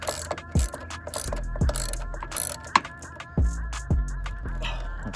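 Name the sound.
ratchet tightening car PCM mounting bolt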